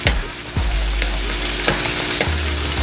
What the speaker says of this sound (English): We're going to add our air fried pork belly already.